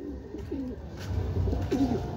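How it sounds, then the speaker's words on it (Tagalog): A racing pigeon coos softly a few times against a low background rumble, close by and brief, arriving home during a derby race. "Ito, pang-apat na ibon natin, si Tukmol, dumating na."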